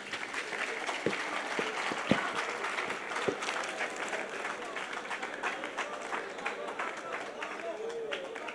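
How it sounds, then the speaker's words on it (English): An audience at an education and leadership congress applauds in a steady wash of clapping, with a few sharper claps standing out and voices mixed in. "Another round of applause."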